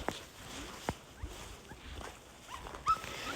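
Small dog giving soft whimpers and a few yips in greeting, faint and intermittent against a quiet background with light rustling.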